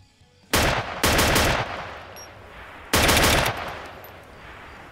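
MK17 rifle gunfire in the video game Arma 2, heard as three loud bursts of rapid shots with rumbling echoing tails between them, no speech over it.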